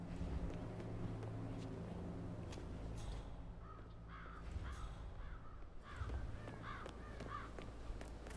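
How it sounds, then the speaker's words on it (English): Crows caw in short repeated bursts over a steady low ambient rumble of wind and distant water traffic in Hitman 3, the calls moderately loud and scattered through the middle of the scene. "It's the birds. They're making a racket, droppings everywhere."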